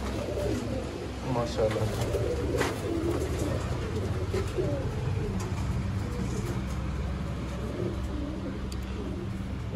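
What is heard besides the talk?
pigeons cooing, golden Sialkoti pigeon pair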